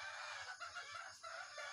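Native and Rhode Island chickens on a rural provincial farm, with a rooster crowing over steady clucking from the flock, close by and fairly loud throughout, with no talking.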